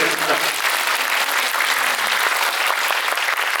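Audience applause closing a film talk event with two directors, a dense, steady wash of clapping filling the room for a few seconds.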